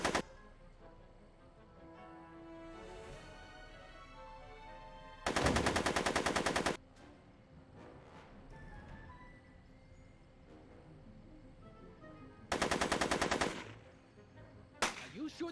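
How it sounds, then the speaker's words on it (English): Gunfire in the Back to the Future video game: two long bursts of loud rapid machine-gun fire, each lasting over a second, separated by quieter game music and effects, with another burst starting at the end. "I'm afraid I'm finding it difficult to concentrate with all the bullets flying around"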